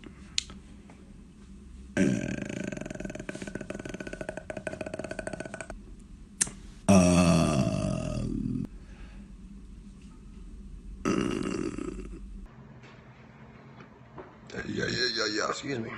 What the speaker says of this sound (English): You burp and you talk with it.